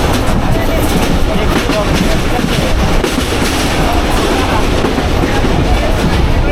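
Dhalarchar Express intercity train from Pabna rolling steadily on the rails, a loud continuous rumble and clatter from inside a crowded carriage with a faint murmur of voices underneath.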